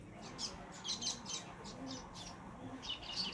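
Baya weaver birds chirp softly around their nests in a palm tree in front of a house, scattered thin high twitters over faint background hiss.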